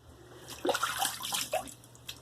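After a shave with a Stirling & Fromm hair shaper, water splashes and runs in short, irregular bursts to rinse it away. The splashing is close and there is no talking.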